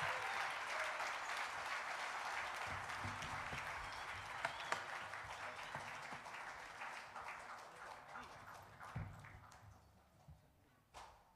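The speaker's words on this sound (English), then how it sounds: "So big round of applause for everybody." An audience claps for the performers at a Krishna Puja entertainment program, a steady round of applause with a few louder individual claps, gradually thinning out and fading toward the end.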